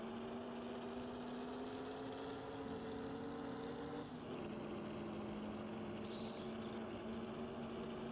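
Engine of a 1937 racing car in a video game, a steady droning note held throughout with a brief dip and shift in pitch midway, loud and continuous with no talk.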